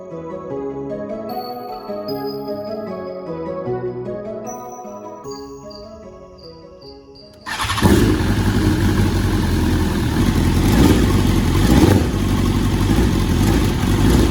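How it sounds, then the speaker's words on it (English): Music plays at first, then a wrecked 2021 BMW S1000RR M superbike, stuck in limp mode, abruptly fires up in a garage and runs loud and close with a harsh, steady engine roar until the end. "fire up the S1000 and see if it's out of limp mode"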